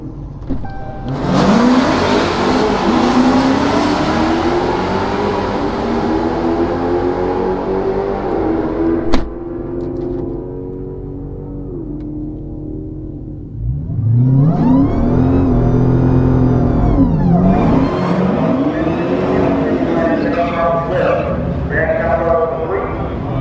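A drag racing car at a Mopar drag strip event revs and launches, engine roaring loud and rising in pitch, easing off, then revving hard again, with talk over it.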